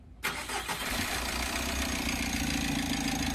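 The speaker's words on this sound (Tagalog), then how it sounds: "Pwede mo na ngayon i-start itong makina para masubukan mo ngayon itong gawa mo." A Mitsubishi L300 Euro4 diesel engine cranks and catches after a brief quiet moment, then settles into a steady, loud, slightly knocking idle with no one talking.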